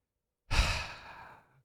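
A single long exhale, like a deep sigh, during a guided meditation: a sudden breath out that starts strong and fades slowly over about a second, alone in otherwise silent surroundings.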